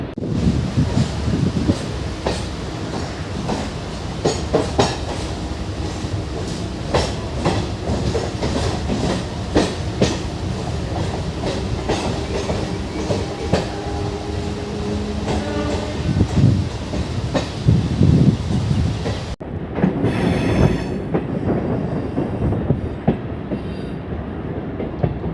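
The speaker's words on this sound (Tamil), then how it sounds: "அண்ட் நம்ம ட்ரெயின் அப்படியே ஸ்லோவாக வெளியே வந்துடுச்சு." A Chennai Beach–Avadi EMU local train rolling slowly out along the rails, with a steady loud rumble, clickety-clack of wheels over joints and some wind buffeting the microphone, heard up close from on board.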